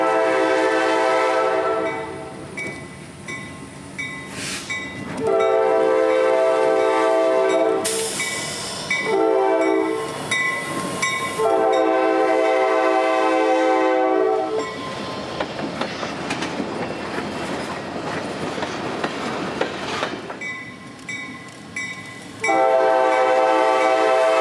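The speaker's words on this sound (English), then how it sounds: "that NS switcher has completed their duties at the port and would return to Evergreen for the day, passing Buckman Street in the process" Norfolk Southern switcher locomotive passing the Buckman Street crossing on a port spur, sounding loud repeated horn blasts over the rumble and clatter of rolling wagons, close by with no voices.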